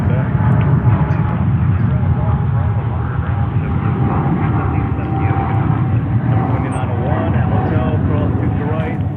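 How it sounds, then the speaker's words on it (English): An American Airlines Boeing 777-300 jet airliner at JFK airport gives a loud, steady engine roar throughout, with a faint whine running through it and a voice talking over it. "American Airlines 777-300 heading to Buenos Aires."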